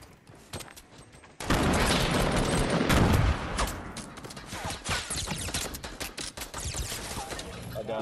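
Gunfire rattles through a shooter video game match, loud bursts erupting after a quieter opening and continuing in dense, uneven volleys while players talk over it.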